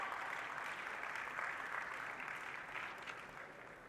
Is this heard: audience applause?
yes